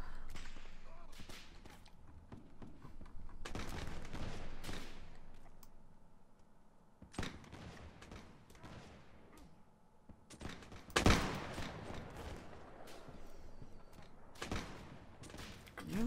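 Musket volleys from a Napoleonic-era Mount&Blade battle crack out in several sharp, loud bursts, separated by quieter stretches of scattered distant shots and battlefield rumble.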